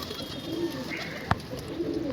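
A pigeon at a small home pigeon setup gives soft, low, close coos, with a single sharp click partway through and no voices.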